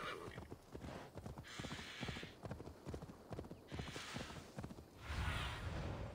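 Horse hooves clip-clop at a steady walking pace in the video game Assassin's Creed Valhalla, with soft whooshing ambience and a louder rumble near the end.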